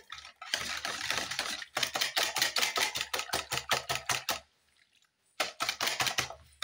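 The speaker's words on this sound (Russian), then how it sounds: "У нас здесь 3 яйца. Начинаем взбивать." Rapid rhythmic clicking of a whisk beating three eggs in a bowl, in two bursts separated by a short pause.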